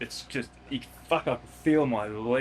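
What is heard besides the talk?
No distinct noise like a dog, phone or traffic.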